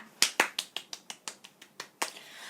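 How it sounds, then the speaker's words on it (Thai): About a dozen crisp hand claps from a single person, close and alone, in a steady even rhythm that slows slightly toward the end, with a quiet room behind them. "ปรบมือค่ะ"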